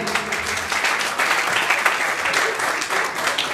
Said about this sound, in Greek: Ένα χειροκρότημα για τον Δημήτρη τον Παγέτη.